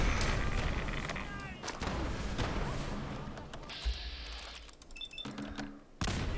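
Explosions and gunfire from grenades thrown in Fallout 4 at the Corvega assembly plant, a dense run of loud blasts and shots, with a muffled boom near the four-second mark and a sharp burst at the end.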